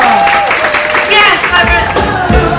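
Audience applause and cheering aboard the Disney Destiny cruise ship during a villains game night, a dense crowd clatter with mixed voices and shouts that runs steadily through the whole stretch.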